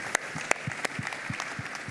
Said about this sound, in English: Let's give them a hand of applause for taking the closing panel.